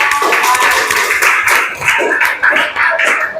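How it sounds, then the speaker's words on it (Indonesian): Classroom applause: a steady patter of many hands clapping at close range, fairly loud and continuous throughout, with no talk over it. "beri aplaus"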